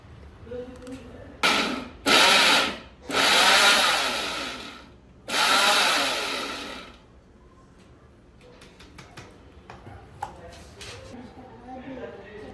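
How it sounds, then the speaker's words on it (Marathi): A kitchen mixer grinder grinding a dry spice masala with salt, running in several loud bursts of whirring and rattling of uneven length. Quieter handling sounds and speech follow. "मिक्सरमधून छान काढून घेऊ।"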